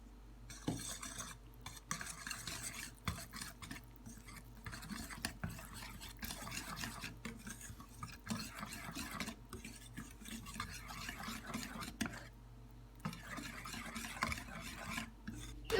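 A spoon stirs a thin sauce of water, vinegar and four tablespoons of flour for a crispy potato börek, making repeated light scraping and clinking against the bowl, close, quiet and uneven, with no talking.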